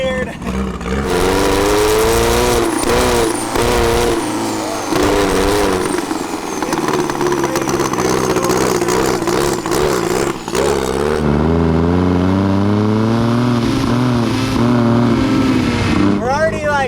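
A car engine fitted with both a turbo and a supercharger pulls away with a rough idle, its loud, close drone rising and falling in pitch as it accelerates, with voices talking over it.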